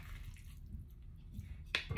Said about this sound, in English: I'm gonna drain off the water because you don't want the water with your cauliflower mash